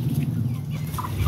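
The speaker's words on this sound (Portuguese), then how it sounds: "Os pintinhos de capoeirão estão crescendo bem saudável." Free-range Capoeirão chicks and hens clucking on a small farm, a steady close chorus of soft peeps and clucks without pause.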